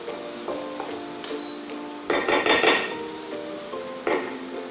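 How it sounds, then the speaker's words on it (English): A spoon scrapes and clanks inside a pot of celery and almond vegetables for barley soup, with bursts of rattling stirring over a soft sizzle, close and loud with no talk. "Keep stirring in between."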